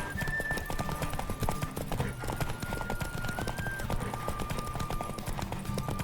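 Roach, a horse in The Witcher 3: Wild Hunt, gallops with rapid, rhythmic clip-clop hoofbeats that run continuously and loud, under a sustained musical tone and brief game ambience.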